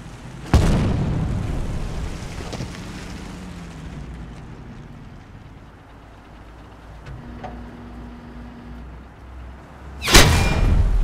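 Sharp, loud tank cannon impacts in War Thunder striking the player's tank, two violent bangs several seconds apart over a low engine rumble and scattered mechanical clanks.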